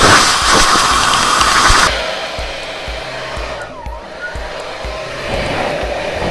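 A hot air brush dryer set to medium speed blows with a loud, rushing roar for about two seconds, then drops to a quieter, steadier hum broken by faint clicks and handling noises.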